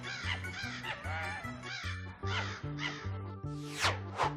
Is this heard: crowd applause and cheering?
no